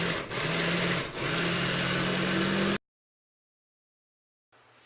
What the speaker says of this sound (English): I'm gonna go ahead and toss them into the food processor just to break them down